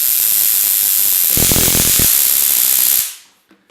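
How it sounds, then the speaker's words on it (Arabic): A homemade electric self-defence device sends a loud, steady crackling arc of current onto a piece of iron for about three seconds, with a denser buzzing burst in the middle, then cuts off abruptly into near silence. "فعندما نضع قطعة حديدية ستنتقل الكهرباء الموجود هنا سينتقل مباشرة إلى القطعة الحديدية"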